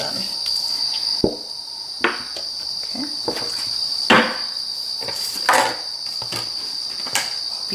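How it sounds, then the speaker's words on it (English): Crickets chirp in a steady high-pitched trill indoors, with several sharp knocks and taps punctuating it and a brief spoken word. "Hope you guys like the cricket sounds."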